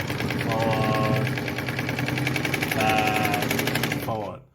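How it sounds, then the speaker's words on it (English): A Phoenix E10 sewing machine stitches forward and in reverse, a loud rapid mechanical chatter that runs steadily, briefly eases, then picks up again before stopping abruptly. "This is the Phoenix model E10 sewing machine"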